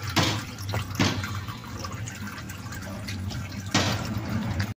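Water runs into a washing machine being tested after a fan belt repair, a steady close splashing and trickling stream with a few louder gushes and a low mechanical hum underneath.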